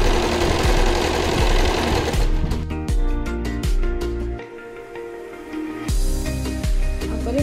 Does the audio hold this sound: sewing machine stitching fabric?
yes